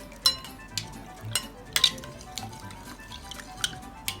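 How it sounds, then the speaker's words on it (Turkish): A spoon stirs a mixed Turkish pide filling in a bowl, giving soft scraping with intermittent sharp clinks against the side, close and moderately quiet, with no talking. "Biraz karıştırayım karışıkla daha rahat ediyor."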